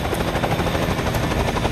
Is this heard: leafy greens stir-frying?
no